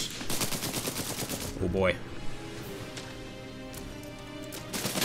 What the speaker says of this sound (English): he can pretty much take them out just by firing like this